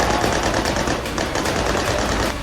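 Celebratory gunfire in Damascus, Syria, marking the fall of the Assad government: dense, rapid bursts of automatic fire crackle continuously, loud and close, with no voices.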